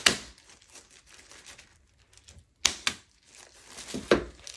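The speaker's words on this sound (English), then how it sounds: "I'm just going to cut them." Scissors snipping rubber bands off a reverse tie-dye bundle, a few sharp close cuts and crinkly plastic handling spread over a quiet room.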